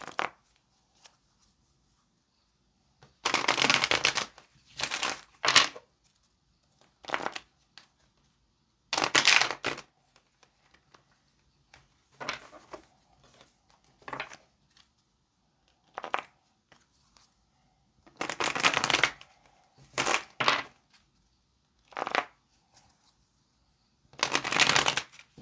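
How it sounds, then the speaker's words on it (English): A deck of tarot cards is shuffled by hand in repeated quick riffling bursts separated by quiet pauses, crisp and close, with no talk. "let's go ahead and get this last shuffle."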